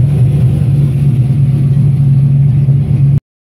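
A Camaro fitted with a Turbo 400 transmission drones steadily on a test drive, its loud, constant engine note running close by before cutting off abruptly near the end.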